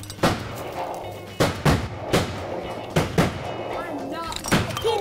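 Sharp, loud shots ring out several times during a deer hunt, one following another in an irregular rhythm across the clip, with voices around them.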